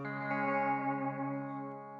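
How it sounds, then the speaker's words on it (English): An electric guitar chord rings out through an effects pedal set to its reverb side, a sustained, wide wash that slowly fades over about two seconds, played alone. "I actually prefer it myself with just the reverb side, as I think it adds a really wild reverb and a really cool depth."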